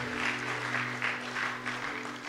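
Brief applause at a Bible college graduation ceremony, moderately distant clapping over a low steady hum, lasting only a couple of seconds.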